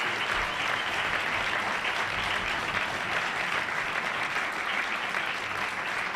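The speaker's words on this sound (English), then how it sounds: "How about a round of applause for our speaker today?" Sustained applause from a luncheon audience following a speech by documentary filmmaker Ken Burns, steady and dense throughout with no voices over it.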